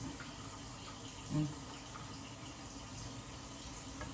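Cold water runs from a tap in a steady, moderate stream, with a soft clunk partway through and a faint murmur in the background.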